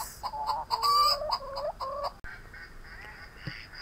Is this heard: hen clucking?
yes